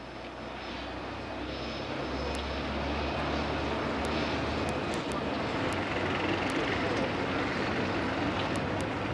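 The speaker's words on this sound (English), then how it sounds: "sending a special Royal Air Force plane to evacuate them" A Royal Air Force evacuation plane, its engine a steady, loud, broadband drone with a low rumble that holds constant throughout, with faint clicks on top.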